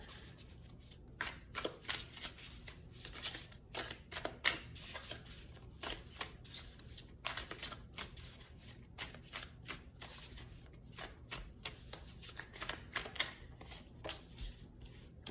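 Animal oracle cards being shuffled and drawn, a close, continuous rapid riffling patter of card edges with uneven bursts, no voices.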